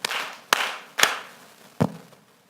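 Audience clapping in unison on a count of three, four sharp separate claps spaced about half a second apart, each ringing briefly in a hall, no voices.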